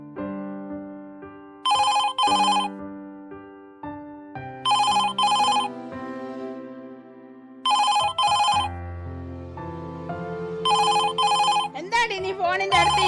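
A home telephone rings in repeated double bursts of a bright electronic bell, four rings evenly spaced and clear, with a low musical backing underneath.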